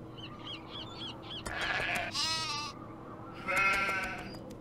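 Sheep in a Nancy Drew video game bleat several times, overlapping and fairly loud, with faint bird chirps at the start over steady game background noise.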